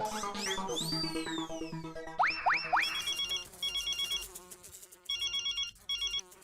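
A phone placing an outgoing call plays a melodic electronic ringtone with rising and falling tones, followed by repeated bursts of ringing separated by short gaps.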